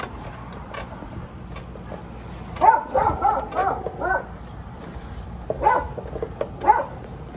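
A puppy barks and yips in short clustered bursts with soft whimpers between them, close by, with no voices.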